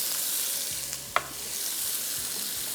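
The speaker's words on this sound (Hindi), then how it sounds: "इसको फ्राई किया, मिक्स किया," Chana dal fries in a pan with a soft continuous sizzle, while a spoon stirs and scrapes through it, including one sharp clink midway.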